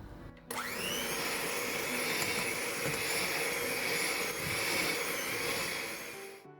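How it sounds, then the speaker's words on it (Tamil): Electric mixer beating butter and sugar for a coconut butter cake, a loud steady whirring drone that starts abruptly and runs continuously with little change, no voices over it. "அது வரைக்கும் பீட் பண்ணி எடுக்க போகிறேன்"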